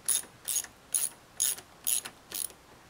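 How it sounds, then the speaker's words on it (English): A hand ratchet loosens a 10 mm bolt on the air intake box of a Dodge Journey or Avenger 2.5 engine, making six short, evenly spaced bursts of rapid clicking up close. "You wanna remove this 10 millimeter bolt from here."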